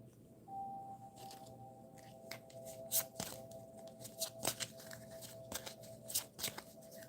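Playing cards being shuffled during a live tarot-style reading, a soft steady riffle and rustle with sharper snaps scattered throughout, fairly faint and close with no talking over it.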